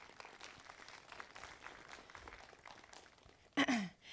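An audience at a Science City STEM seminar gives a faint, distant round of applause, a soft patter of many hands lasting a few seconds, before a short louder sound near the end.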